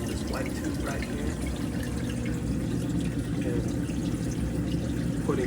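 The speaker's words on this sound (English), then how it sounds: "This clear line right here that's dripping water in, that's from the come-over pump." Water dripping from a clear line off a calcium reactor's come-over pump into an aquarium sump, a steady close trickle over constant pump hum and bubbling.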